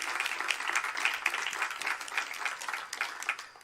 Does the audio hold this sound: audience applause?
yes